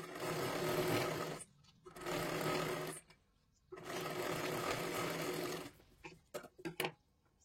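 A sewing machine stitches the lining of a katori blouse sleeve in three steady runs, each lasting one to two seconds with short pauses between, then a few brief bursts at the end. The sound is close and clear, with no talking.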